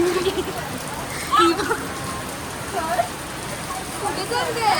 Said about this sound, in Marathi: जरा जास्तच जोरात पाऊस आला